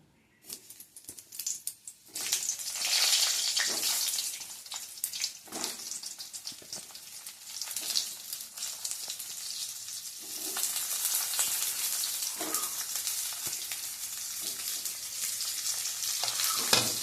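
Eggplant frying in oil for Bengali sukto, a loud continuous close sizzle that erupts after a quiet start, with scattered pops and stirring scrapes throughout and no voices.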